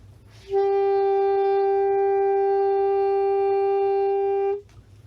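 A single steady sustained instrumental note, a concert G, held for about four seconds, even and unwavering, with no vibrato, then cut off cleanly.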